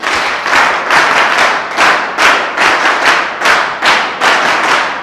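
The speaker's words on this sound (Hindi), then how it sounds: "एक बार जोरदार एनएसएस ताली" A large group at an NSS gathering gives a loud clap in unison, in a repeating rhythmic pattern of quick claps grouped into bursts. It is sharp, close and continuous for several seconds, with no talk.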